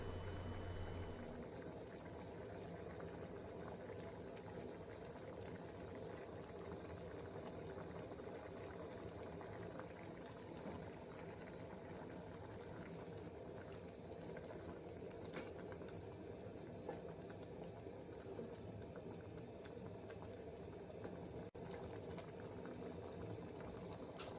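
Coconut fish sauce seasoned with stock cube and salt simmers steadily in a pot, a soft continuous bubbling hiss that stays even and fairly quiet throughout with no talking.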